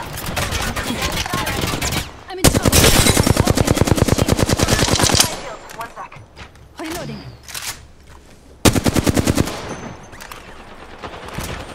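Rapid automatic gunfire bursts from a match of the video game Apex Legends, loud and dense in two long volleys with a shorter burst later, separated by quieter clicks and mechanism sounds, with a voice talking intermittently.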